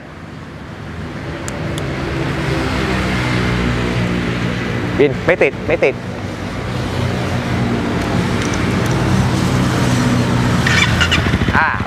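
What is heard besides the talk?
Honda CBR250 motorcycle with carbon Yoshimura-style aftermarket exhaust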